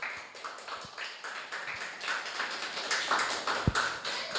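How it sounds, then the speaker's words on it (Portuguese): Church congregation at a Baptist service clapping for Jesus, a dense, continuous patter of many hands filling the room at moderate distance, with occasional low thumps. "Se você pode aplaudir Jesus, faça isso bem forte."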